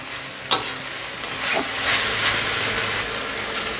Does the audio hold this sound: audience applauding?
no